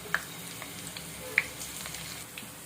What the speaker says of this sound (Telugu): కొత్తిమీరని ఒక చిన్న బంచ్ ఇలా తీసుకొని పిండిలో డిప్ చేసి ఆయిల్లో వేసుకుంటున్నాం.